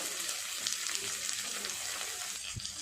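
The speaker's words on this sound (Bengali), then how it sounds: "বাঁধাকপি কোচানো আর ক্যাপসিকাম সব কিছু খুব ভালো করে নেড়ে চেড়ে একটু ভাজা করে নেব" Onion, ginger, garlic, chilli, carrot, cabbage and capsicum sizzle softly in a pan for spring roll filling, with faint, irregular stirring clinks and a brief thump near the end.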